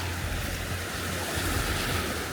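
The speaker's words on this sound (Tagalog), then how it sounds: "Alam mo yung hampas ng alon, naririnig mo sila habang naglalakad ka." Ocean waves surge and wash continuously on Diniwid Beach in Boracay, a steady close roar mixed with wind buffeting the microphone.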